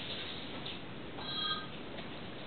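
A phone rings faintly in a home setting, a thin electronic tone recurring briefly over a soft background hiss, with no talking.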